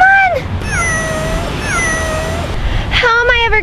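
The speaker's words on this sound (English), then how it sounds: "Can you help me get my cat down from the tree?" A cat up in a tree gives several drawn-out, plaintive meows in succession, fairly close and loud over light background noise.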